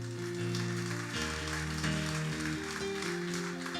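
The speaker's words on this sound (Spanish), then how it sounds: "Junte esas manos libres y denle un fuerte aplauso." A church congregation applauding: dense, steady clapping with a low organ or keyboard chord progression sounding beneath it throughout.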